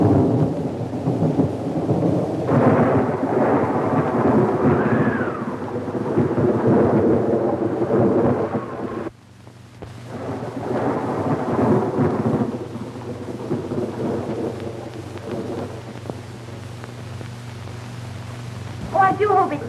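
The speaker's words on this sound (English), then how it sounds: "I do hope it stops raining" Heavy rain pours steadily while loud thunder rolls and rumbles through the scene, briefly dropping off before the downpour and rumbling return, with a voice speaking over the storm.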